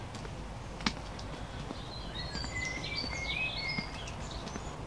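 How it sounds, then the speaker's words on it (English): Faint, thin bird chirps and trills drift in from a distance over a steady outdoor hiss, with a couple of soft knocks, by a seaside marine lake in March. "Birds singing."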